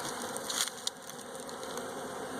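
Dense, steady buzzing of many honey bees close by at an open hive, a constant droning hum with a few brief rustles or knocks near the start.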